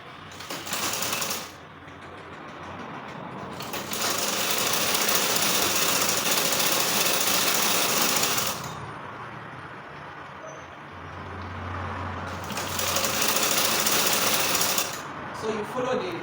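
Sewing machine hemming the triangular edge of a bubu top, running in loud sustained bursts with short pauses between as the fabric is turned, no talking.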